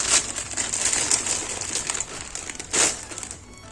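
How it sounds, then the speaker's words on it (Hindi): Polythene plastic bag used for storing small dresses, crinkling and rustling continuously up close, with sharper crackles scattered throughout. "कान्हा जी की ड्रेसेस मैं इस तरह से पॉलीथीन में करके रखती हूँ, डिब्बे में।"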